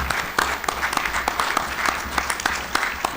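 An indoor audience applauds with steady, dense clapping from many hands, fairly close and continuous throughout.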